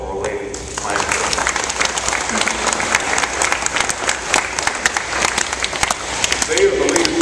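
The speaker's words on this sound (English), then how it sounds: "We need to give them a big round of applause for our lady planning." Dense, sustained applause fills a school event honoring regional planners, a crowd clapping steadily and loudly throughout, with voices mixed in beneath the clapping.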